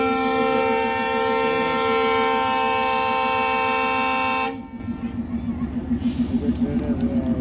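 A train at Khulna railway station sounds a loud, sustained horn blast close by, which cuts off and gives way to the rhythmic clatter of wheels as the train pulls away, with a brief second horn toward the end.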